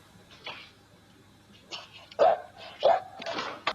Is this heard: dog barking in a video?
yes